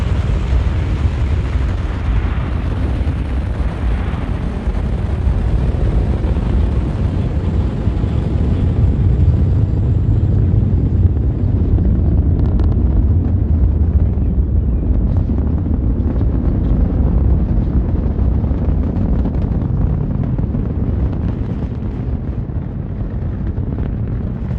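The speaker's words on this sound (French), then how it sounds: "Allumage EAP et décollage BA 259." An Ariane 5 rocket ignites its solid boosters and lifts off, a loud continuous rumbling roar heavy in the low end that holds steady then slowly thins as it climbs away.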